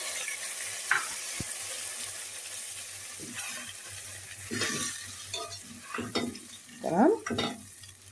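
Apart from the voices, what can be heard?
tomato sauce sizzling with fried onion and garlic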